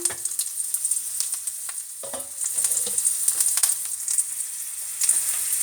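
Slices of bitter melon fry in a pan with a bright, constant sizzle, broken by a few soft scrapes and clatters as the pieces are turned over.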